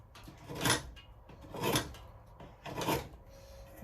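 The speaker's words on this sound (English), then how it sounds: "I just need to get the chisel under it" A chisel pares wood on a guitar bridge in three slow, evenly spaced rasping strokes, close and fairly quiet in a still workshop.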